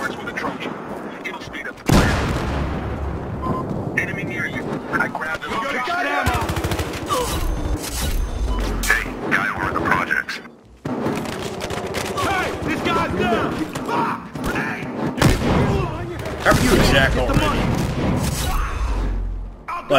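Battlefield Hardline firefight with dense bursts of automatic gunfire and heavy booms spread over the whole stretch, loud and close, broken by a brief gap, as players talk throughout.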